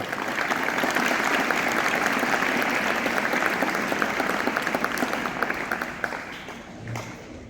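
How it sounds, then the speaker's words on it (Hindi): A school audience breaks into loud applause, a thick, continuous clapping from many hands that stays strong, then thins and tapers off in the final seconds. "एक बार जोरदार ताली आपके लिए हो जाए"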